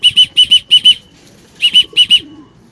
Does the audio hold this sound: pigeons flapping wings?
yes